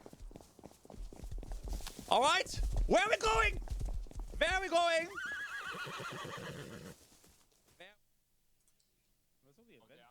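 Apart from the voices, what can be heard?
horse hooves and neighing in a video game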